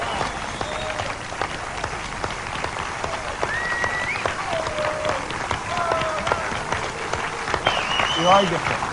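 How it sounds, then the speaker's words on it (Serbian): An audience applauding at a seminar event, dense steady clapping from many hands continuing throughout, with a few cheers and whistles rising above the claps. "A big round of applause."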